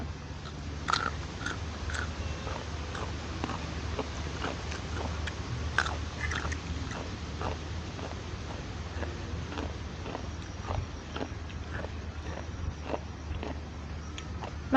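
Someone eats spicy pounded papaya salad with rice noodles, with close, soft chewing and occasional crisp bites scattered through a steady low background hum, and no speech.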